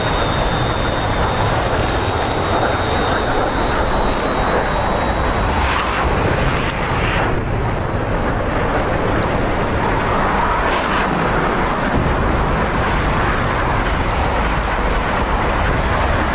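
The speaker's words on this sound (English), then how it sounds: "Get him, Harriers flying level now." Harrier jets flying level in the DCS World combat flight simulator, giving a continuous loud roar of jet engines with a steady high whine and a few swelling passes, unbroken throughout with no talk.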